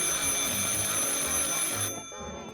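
A telephone rings in the video game Martha Is Dead, a loud, sustained electronic bell tone that cuts off near the end, with no speech.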